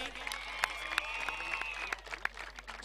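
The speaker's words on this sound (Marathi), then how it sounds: "तर जोरदार टाळ्या होऊ द्या" Applause from the crowd at a cricket tournament prize distribution ceremony in Dombivli, steady clapping with sharper individual claps, moderately distant, a voice faintly audible underneath.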